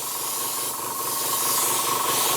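Aerosol spray paint hissing in a steady, loud, continuous burst onto a stencil for a tabletop landing pad, close and unbroken for a couple of seconds.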